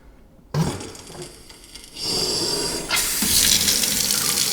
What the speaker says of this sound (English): We have water! I'm gonna leave it running for a bit.